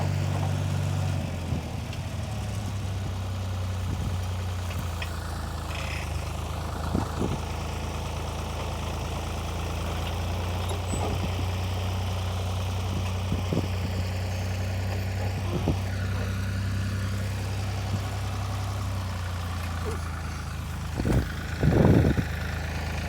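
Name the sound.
compact tractor engine working with a landscape rake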